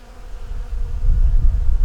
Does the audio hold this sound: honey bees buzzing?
yes